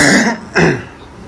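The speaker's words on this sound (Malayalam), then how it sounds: "ചെറിയ ചുമയുണ്ട്" Two short, harsh coughs close to the microphone, the second following after a brief pause, with no talking.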